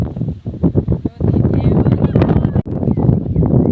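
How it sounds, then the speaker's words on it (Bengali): Strong outdoor wind buffets the microphone with a continuous, heavy rumbling roar on a countryside outing near a river boat crossing, with a brief dip partway through. "কিন্তু বাতাস।"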